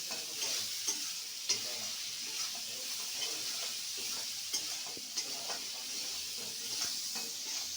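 Shrimp masala with salt is sautéed in a pan, a steady close hiss of frying under frequent soft scrapes and taps of a stirring spoon, no voices.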